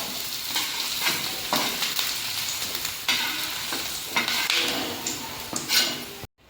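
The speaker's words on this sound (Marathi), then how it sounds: "कांदा लसूण व आलं एकत्र भाजल्यामुळे रस्स्याला चव चांगली येते।" Onion, garlic and ginger roast in a pan for a Kolhapuri-style village chicken rassa, giving a steady sizzle and frying hiss with repeated scraping stirs of a spatula against the pan throughout, close and fairly loud, ending abruptly.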